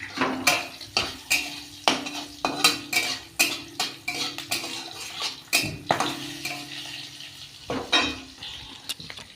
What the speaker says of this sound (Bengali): আদাটা পরে দেবো সবজিটাকে ভেজে নিই